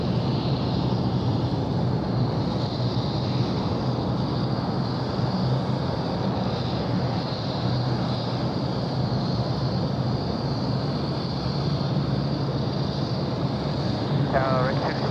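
Steady broadband roar of aircraft at Sydney Airport at night, a continuous jet rumble with wind buffeting the microphone throughout, loud and unbroken.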